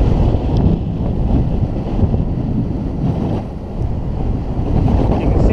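Wind while kiting on a snowy frozen pond: loud, constant rumbling gusts buffet the microphone, with a steady roar that swells and dips slightly and no talking.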